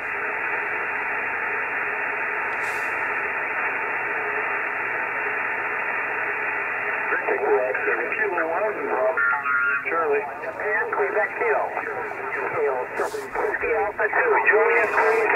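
An amateur radio receiver carries a pileup of many stations calling at once, a hiss-filled band of overlapping voices that grows denser and busier partway through and stays steady and fairly loud.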